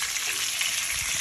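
Chopped onions frying in a pan of hot oil, a steady close hiss and crackle of sizzling at moderate volume, alone with no talk.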